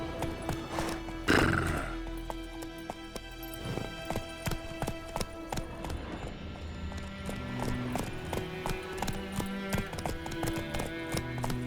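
Roach the horse in The Witcher 3 neighs loudly near the start, then gallops with fast, rhythmic hoofbeats over a game soundscape, no talking.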